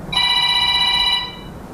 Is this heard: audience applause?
no